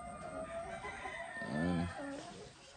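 Hens clucking in a breeding pen, close and moderately loud, with a short drawn-out cackle in the middle and steady farmyard background.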